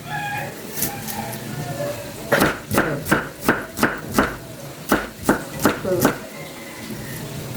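Knife chopping onion on a cutting board: about ten crisp, evenly spaced chops in a quick run, close and clear over a quiet room background.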